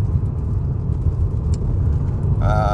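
BMW E39 running a Lexus GS450H hybrid drivetrain swap cruising on the road, a steady rumbling cabin drone with faint whir and a brief high tone near the end, no talk.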